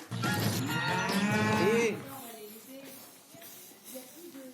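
A cow on a farm gives one long, loud, close moo lasting about two seconds, followed by quieter background farm sounds with faint voices.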